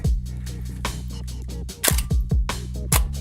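A Hasselblad 500C/M medium-format camera fires its shutter and slaps its mirror, giving a series of sharp, close mechanical clacks in short succession with no talking.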